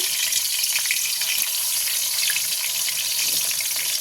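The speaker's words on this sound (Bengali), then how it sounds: "এখন তেলের ভিতর দিয়ে ভেজে নেব। তো কড়াইতে তেল দিয়ে দিলাম" Pointed gourd pieces frying in hot oil in a wok give a steady, dense hiss with a fine crackle that holds evenly throughout, close and moderately loud, with no voices.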